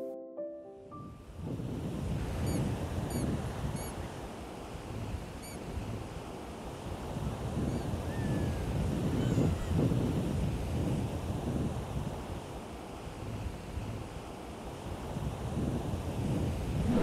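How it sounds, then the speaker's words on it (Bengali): Sea waves roar steadily on Bagda Beach in Balasore, with wind noise buffeting the microphone, a continuous broadband wash of surf that swells and recedes without any speech. "শীতল হাওয়া আর মন মাতানো ঢেউয়ের গর্জন"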